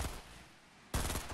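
Video game gunfire during random squads gameplay, a loud burst of shots breaking in after a short lull, close and harsh.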